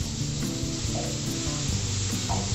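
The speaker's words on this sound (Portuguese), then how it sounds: "Vou deixar refogar bem também" Onion, leek, garlic and carrot rounds sauté in a pan for a French bean cassoulet, giving a steady loud sizzle and crackle with occasional stirring scrapes, close up and without talk.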